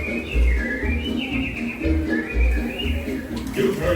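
Animatronic birds whistle and chirp in Disney's Enchanted Tiki Room at Magic Kingdom, warbling melodic calls over a steady musical backing with a rhythmic low beat.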